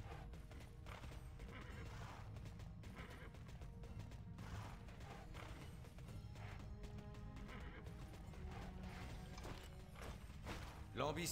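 Horse riding in the online game TERA: steady clip-clop hoofbeats with repeated whinnies and neighs over a continuous bed of game ambience and music, while someone talks over it.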